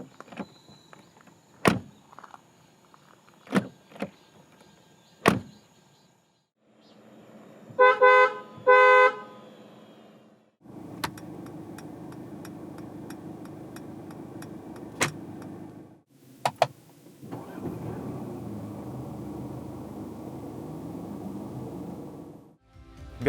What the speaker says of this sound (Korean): 잠시 E클래스가 들려주는 감성 측면의 소리를 들어볼까요?